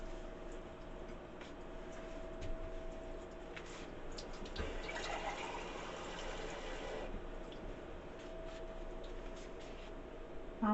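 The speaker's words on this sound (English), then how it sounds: "Let's get something to put some water in it." Water pours steadily into a Keurig K-Cafe Essentials coffee maker, a continuous trickling fill over a low hum that swells briefly in the middle before easing back.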